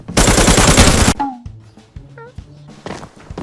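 A loud burst of automatic gunfire in the shooter Arena Breakout rattles for about a second, then fades into scattered quieter thuds and clanks.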